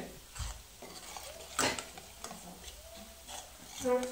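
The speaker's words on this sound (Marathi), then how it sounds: "आता आपला कांदा गुलाबी रंगापर्यंत परतत आलेला आहे. अजून थोडा वेळ आपण भाजून घेऊ" Onion being fried and stirred in a pan until it turns pinkish, a quiet scrape and stir with a faint sizzle beneath and a few light clinks of a utensil against the pan.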